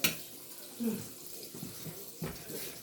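Tap water runs into a kitchen sink as a fork is rinsed, a soft continuous splash with a few brief clinks and surges, close by and fairly quiet.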